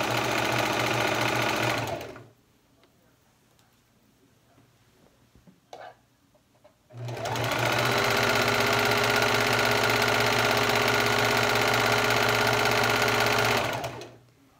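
A sewing machine stitches a handmade travel blanket in two long, steady, loud runs of even mechanical whirring, separated by a few seconds of near quiet with small handling noises.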